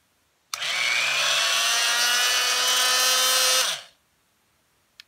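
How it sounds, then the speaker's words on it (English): An oscillating multi-tool switches on abruptly and runs for about three seconds with a loud, even buzzing whine as its toothed blade vibrates back and forth, then spins down; a small click follows. "So an oscillating tool is going to go back and forth."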